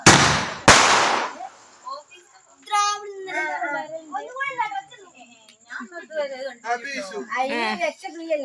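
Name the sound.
firecrackers bursting at home for Vishu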